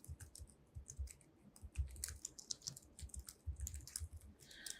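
A computer keyboard typed on to name an editing sequence, quiet rapid clattering keystrokes in an uneven rhythm, close and alone.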